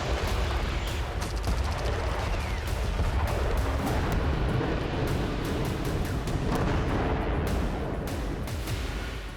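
Explosions in Gaza rumble as a dense, continuous roar with repeated heavy booms and crackling bursts, loud and unbroken throughout with no speech.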